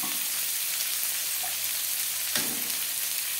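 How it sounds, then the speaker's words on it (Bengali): Sliced onions fry lightly in a kadai, a soft continuous sizzle with faint crackles and one brief stirring scrape, steady and close with no talking. "পেঁয়াজ আমি হালকা করে ভেজে নেব।"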